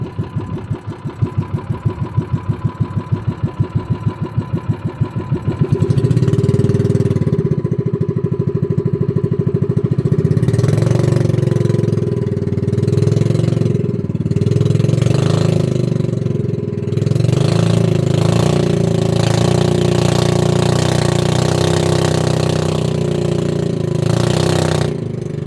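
A motorcycle engine idles with a rapid, putting pulse, then is revved repeatedly in loud surging bursts that stutter and misfire, close and alone without talk.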